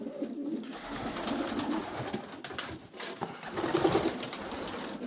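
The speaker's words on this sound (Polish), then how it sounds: "Jestem w kolejnym gołębniku." Old Polish carrier pigeons coo steadily in a pigeon loft in low, rolling murmurs, several birds overlapping close by with a soft rustle of movement in the background.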